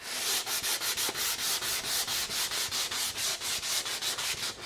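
Sandpaper is rubbed back and forth along the grain of a wood piece, a close, loud rasping scrape repeated in a quick steady rhythm of about four strokes per second, with no talking.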